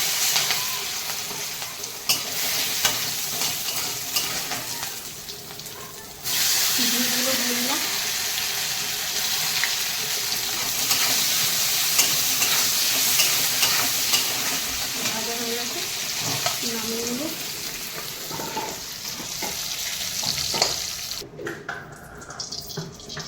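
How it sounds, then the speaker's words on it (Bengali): Cashews frying in hot oil hiss and crackle continuously at close range, with occasional stirring clatter and brief faint tonal sounds in the background. "আমার তেল গরম হয়ে গেছে কাজুগুলো ভেজে নেবো"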